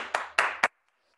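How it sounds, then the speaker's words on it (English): Three brief rounds of hand clapping from a fitness class at the end of a workout, quick and close, then silence. "Give yourself a round of applause."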